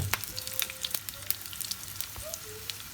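Curry leaves and a pinch of asafoetida sizzle in hot oil, a soft, steady crackle with scattered sharper pops, heard fairly quietly and without voices.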